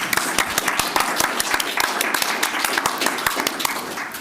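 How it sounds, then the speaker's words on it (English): An audience at a Brighton AANHPI Heritage Month event applauds, with dense, steady clapping running loud and close through the whole stretch and no talk over it. "maybe have another round of applause"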